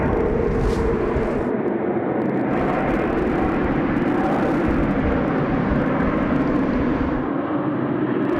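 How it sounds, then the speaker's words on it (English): Qantas airliner arriving from Melbourne at Sydney Airport at night, a loud continuous jet engine roar holding steady and close, with no talking over it. "Qantas 468, just coming in from Melbourne there"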